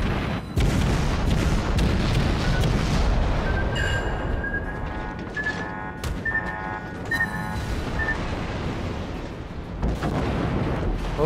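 The USS Hotlanta's guns fire rapidly in World of Warships, a dense, continuous barrage of heavy booms and crackling shots that keeps up without a break.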